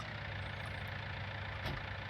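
A tractor engine idling in Farming Simulator 19, a steady low rumbling drone at even volume throughout with no voices.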